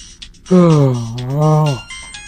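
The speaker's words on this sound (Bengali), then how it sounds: "এত রাতে ফোন করছে।" A phone ringtone sounds for an incoming call late at night in a horror audio drama, a loud sustained melodic tone of about one and a quarter seconds rising out of a quiet room.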